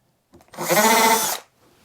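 A single short burst of a power drill boring a pilot hole into wood, rising quickly and cutting off after under a second, while building an under-sink cabinet.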